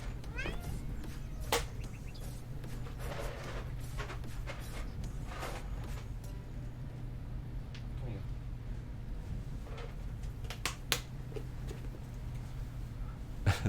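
A cat meows several times in the Lumberjack's Dynasty game, the calls short and scattered over a steady low hum, with speech and other sounds around them.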